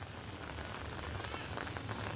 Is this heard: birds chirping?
no